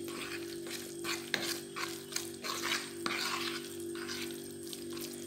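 Cauliflower coated in flour is stirred in a pan, with rough scraping strokes and soft clatter over a constant close sizzle, several uneven stirring passes across a few seconds, no voices.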